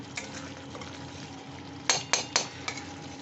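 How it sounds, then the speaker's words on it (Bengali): Masala stirred and fried in a pan for a snakehead fish curry, a soft steady sizzle with a few sharp scraping clinks of a utensil against the pan near the end. "এই নিচের মধ্যেই আমরা নেড়ে চেড়ে এটা কষে নেব"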